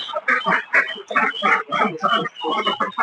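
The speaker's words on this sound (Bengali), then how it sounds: "এই জায়গায় আমাদের হাঁস আছে একশো বিশ পিসের মতো" A flock of about 120 ducks quacking and honking continuously, many overlapping calls close by, busy and loud throughout.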